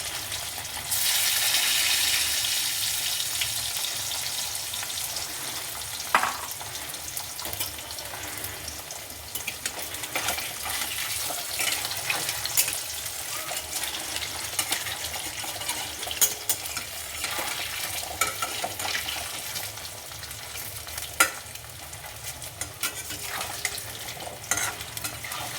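Chicken balls frying in oil over low flame, a steady close sizzle with occasional stirring clinks and scrapes throughout, no talk.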